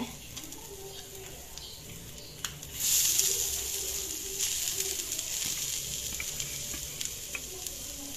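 Bangude (mackerel) fish with coconut fries in oil in a pan, a continuous soft sizzle under nearby pigeons cooing, with a louder hiss rising partway through.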